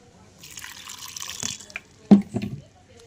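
Water poured or trickled from a tap into green peas with a green chilli before grinding into a paste, a soft splashing drip that swells into a couple of brief louder gushes near the end.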